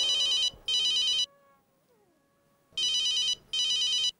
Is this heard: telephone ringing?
yes